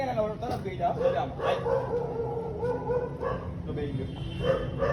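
A husky barks and yips repeatedly in short, close bursts, mixed with whimpering tones, while people talk loudly over it the whole time.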